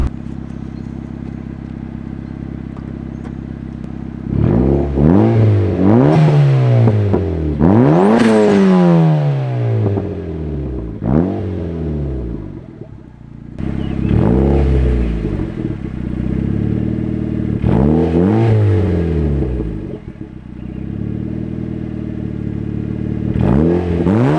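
Turbocharged NB Mazda Miata exhaust revving hard in repeated loud bursts, each rise and fall of engine pitch trailed by crackling pops and bangs, with short pauses between revs.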